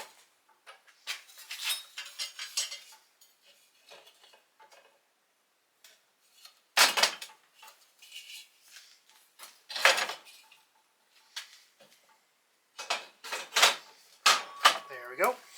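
Metal screws and nuts being fitted onto a custom steel mount for a metal chop saw, with sharp clinks and ticks coming in short clusters with pauses between them, close by and fairly quiet, and no one talking.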